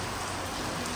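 Rain falling in Patan, a steady, even hiss of drops that stays faint and unbroken throughout.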